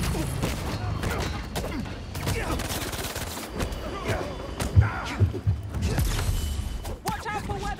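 Gunfire in the Spider-Man 2 video game during a rooftop fight, dense bursts of shots and thuds mixed with game effects, with people talking over the action throughout.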